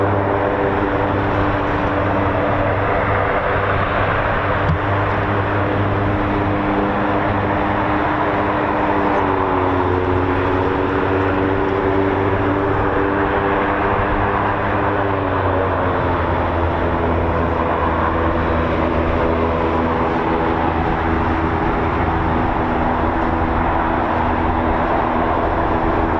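The engine of an RAF Shadow R1 aircraft at RAF Waddington drones steadily and loudly throughout, a continuous close roar with a shifting tonal hum and no speech over it.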